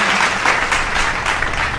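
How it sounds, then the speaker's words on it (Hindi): Audience at an Independence Day celebration applauds, a dense, steady burst of clapping from a sizeable crowd. "इनके लिए एक बार जोरदार ताली हो जाए।"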